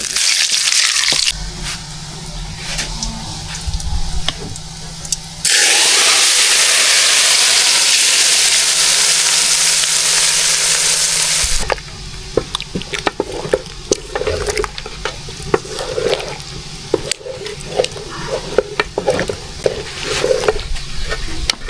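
Dry chillies, bay leaves and cumin dropped into hot oil for khichuri cooked outdoors, a loud, steady sizzle and hiss that later breaks into crackling stir-scrapes and clatter, with no talking.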